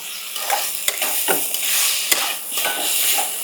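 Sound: stirring cumin powder and salt in a cooking pan

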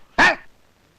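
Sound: dog barking

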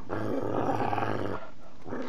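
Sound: dog growling in Fallout 3 video game

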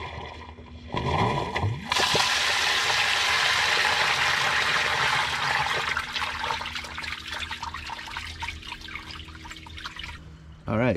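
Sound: septic sand filter lateral purge flush of water

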